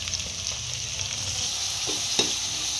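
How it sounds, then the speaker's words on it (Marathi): Finely chopped onion with plenty of garlic sautéing over high heat in a pan for Schezwan chicken fried rice, a steady close sizzle with a few sharp stirring clicks, no talking. "कांदा आपला परतला गेलेला आहे"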